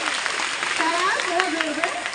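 A steady wash of crowd applause at a senior secondary school Independence Day celebration, moderately loud and continuous, with a voice speaking over it.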